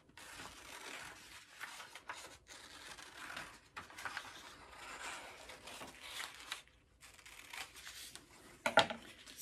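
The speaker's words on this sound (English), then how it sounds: "So with our scissors, we're gonna cut out the strip that we just drew." Quiet, repeated snipping and crinkling of scissors cutting a paper strip, close by, with brief pauses between cuts and one sharper snip near the end.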